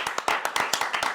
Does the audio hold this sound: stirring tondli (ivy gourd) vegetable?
no